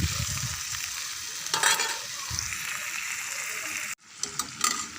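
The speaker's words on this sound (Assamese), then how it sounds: "পানী নিদিয়াকৈ মছলাতে ভাজি লৈ ইয়াতে পানী এড কৰি দিম" Local chicken meat fries in spices with a dense hiss and crackle, stirred in a pan, then cut briefly before softer sizzling resumes with scraping stirs.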